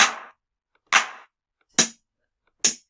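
Four short drum hits previewed one at a time in LMMS music software, each a sharp percussive crack with a quick decay, separated by silence at roughly one-second intervals.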